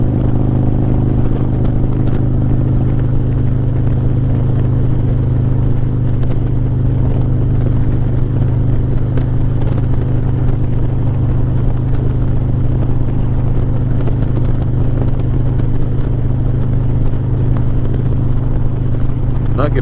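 A Harley-Davidson Street Glide with a 124 ci engine cruises at about 3,000 RPM on an interstate highway, producing a loud, constant low rumble mixed with heavy wind roar, with talk underneath.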